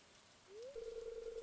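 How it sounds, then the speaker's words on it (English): Rain falls over a lake in the video game Stardew Valley as a soft, steady hiss, joined midway by a rising musical tone that settles into a sustained note. "watching the curtains of rain whisper above a silent lake"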